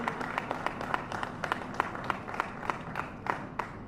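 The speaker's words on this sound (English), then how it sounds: "Let's give them a little round of applause for the work that they're doing." A small audience at a Rhode Island Department of Transportation event on the Washington Bridge rebuild claps lightly. Sparse, distinct hand claps repeat steadily at a moderate distance, with no cheering.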